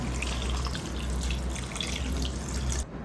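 Water is poured steadily into a simmering Tamil-style mutton kulambu, about 400 ml added in a continuous close stream that runs for roughly three seconds before stopping abruptly.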